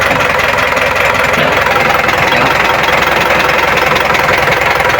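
An overhauled truck diesel engine, Isuzu Elf or L300 type, idles close and loud with a steady, even knocking rhythm that continues throughout.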